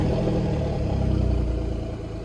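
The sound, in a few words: Alfa Romeo Giulia GTAM engine starting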